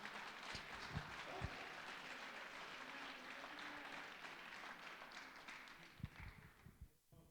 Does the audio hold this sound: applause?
yes